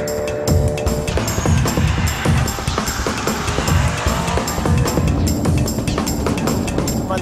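A BMW M3 GTS at speed on the Nurburgring, its engine roaring loud and steady with rising and falling revs, gear shifts and some tire noise, heard up close without talk.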